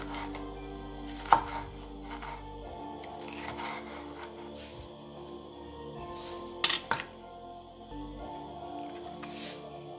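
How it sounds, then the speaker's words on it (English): A knife cuts lengthwise through a bell pepper on a board for a homemade burrito, giving a few distinct, crisp chops and snaps, including two sharp strikes, over a low, steady background hum with no talking. "I'm just going to slice this lengthwise."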